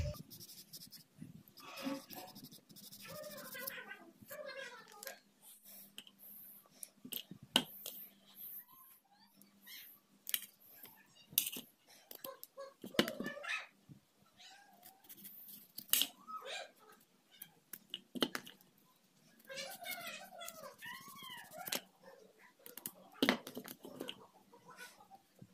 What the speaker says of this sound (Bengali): একটা চাকুর সাহায্যে এই যে কালো মুখগুলো আছে এগুলো কেটে